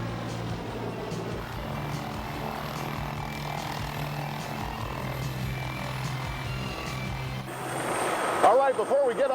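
A helicopter drones with a steady low engine hum and rotor throb, close and continuous, rising slightly in loudness near the end.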